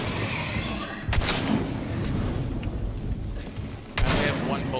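Gunfire in the Hunt: Showdown video game: two sharp, loud shots roughly three seconds apart, each cracking broadband over a steady ambient game bed.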